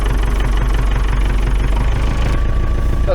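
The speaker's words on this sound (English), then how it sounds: "let it warm up a little bit and we'll try to use the snowblower to remove the snow" A snowblower engine idles steadily while warming up in the snow after its throttle had frozen, a loud, continuous low rumble with a rapid, even pulse from start to finish.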